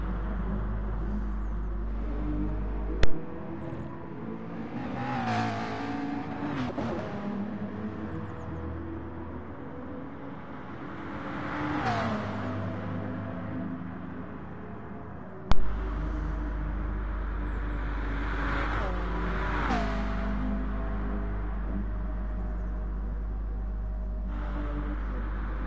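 A McLaren race car in an ARC Le Mans racing video game, its engine revving up and down through gear changes as it sweeps through corners, with two sharp clicks and a steady low rumble underneath.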